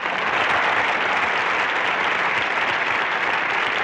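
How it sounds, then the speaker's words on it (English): A theatre audience applauds a stage performance on opening night with thick, continuous clapping that stays steady and full for several seconds. "And so the audience applauds."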